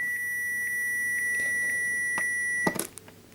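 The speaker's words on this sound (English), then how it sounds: "You heard the beep." Short electronic beeps from a multimeter on continuity test as probes touch an LED TV backlight strip, a few evenly spaced clear tones followed by a brief clatter, no talking.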